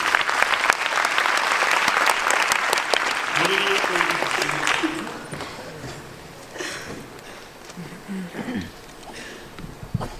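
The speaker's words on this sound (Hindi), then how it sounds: "जोरदार तालियां राजेश कुमार मोदी जी के लिए।" A crowd at an indoor gathering gives loud, sustained applause that fades after about five seconds, leaving softer scattered clapping and murmuring voices.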